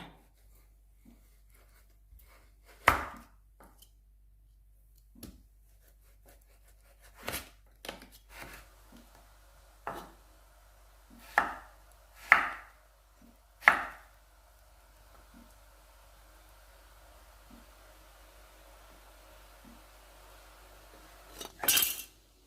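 A knife dices taro on a cutting board in sparse, irregular strikes, sharp knocks with quiet pauses between them and no talking.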